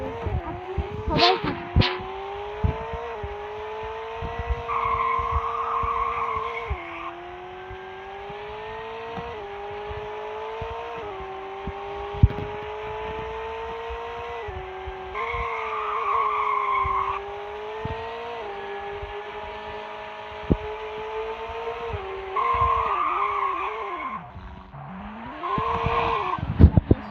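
A McLaren Spider supercar in the Roblox video game races with a continuous high engine whine, broken by repeated bursts of sharp tire squeal from skidding, with a few clicks and thumps along the way.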